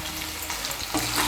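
Pieces of pointed gourd sizzle and fry in hot oil while being stirred in a pan for a mixed vegetarian curry, a steady close hiss with scraping stir noises and no talking.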